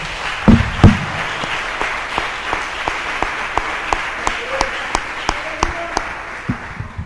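A church congregation applauds during a Sunday night service, with many hands clapping in a steady, rhythmic beat that holds until the end.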